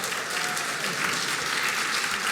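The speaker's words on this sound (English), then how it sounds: "So just join me in giving Carlos an extra round of applause this evening" Audience at an award ceremony applauding steadily, a dense, even wash of clapping that fills the whole moment without pause.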